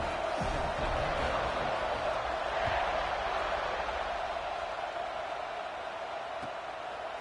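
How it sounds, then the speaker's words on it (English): Football stadium crowd at a Tennessee versus Arkansas game, buzzing after a score: a dense, steady roar of many voices, loud and continuous, with no single voice standing out. "this crowd is buzzing after that last score"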